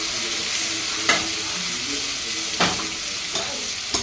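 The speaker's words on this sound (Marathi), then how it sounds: "चला आता यात जिरे टाकले, जिरे बघा छान तडतडले" Cumin seeds crackle and splutter in hot oil, with asafoetida added, as a tempering for a spinach and chana dal dish; a steady close sizzle with several sharp pops scattered through it.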